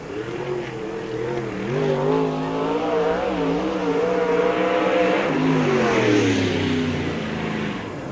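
A race car laps Spoon River Speedway at the 1997 Summer Nationals, its engine droning loud and steady with rising and falling revs as it passes, alone with no talk.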